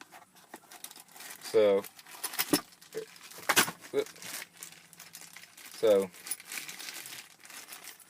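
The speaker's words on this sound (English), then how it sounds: "gonna unbox it right here on camera for you guys" New Ford Motorcraft ignition cylinder with keys, for a Ford F-600, being unboxed: packaging crinkles and rustles in bursts with sharp taps and small clicks, close and fairly quiet, while someone speaks briefly.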